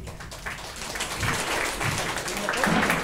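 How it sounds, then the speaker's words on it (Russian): Audience applause at a live comedy show, a moderate, steady patter of clapping from a crowd that swells slightly toward the end, with some voices mixed in. "Ого, сколько у тебя аплодисментов."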